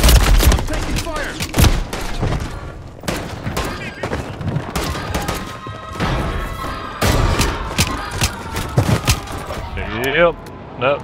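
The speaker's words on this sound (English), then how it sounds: "I'm taking fire." Warzone gunfire cracking in repeated bursts and volleys, with a few heavier booms, loud and near, as voices talk over the fighting.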